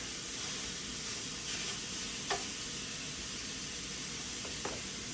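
Sausage sizzles steadily in a frying pan, a constant soft hiss with a couple of faint scrapes from stirring, no voices.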